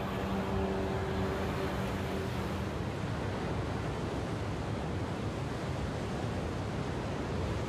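Giant ocean waves break below a cliff in a steady, full roar of surf mixed with wind rush, loud and continuous throughout, with a few faint tonal hums early on.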